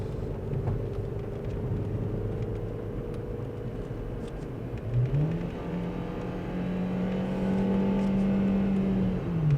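A 2003 VW Jetta with the 1.8T engine revs up from a steady idle-like drone, its whirring engine tone climbing and holding high, heard close and alone with no talk.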